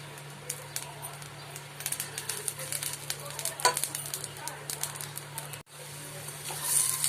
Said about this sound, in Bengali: এবার আমি ওই মাছ ভাজা তেলেই অল্প একটু কালো জিরে ফোড়ন দিয়ে দিলাম